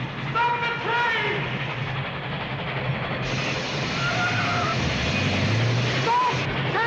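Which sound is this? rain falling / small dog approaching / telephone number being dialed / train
train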